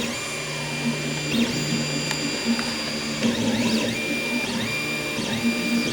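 3D printer laying down its first layers in a print room, a steady mechanical whir with shifting stepper-motor tones and occasional small clicks, close and continuous.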